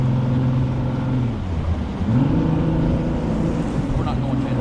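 A fishing boat's motor on a lake in Hot Springs, Arkansas, drones steadily and close, its pitch dipping and then rising again as the boat struggles to get up on plane, with wind buffeting the microphone.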